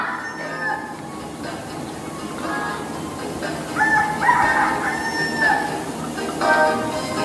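A rooster crows repeatedly against a steady background of noise, the calls rising and stretching out, with no talking.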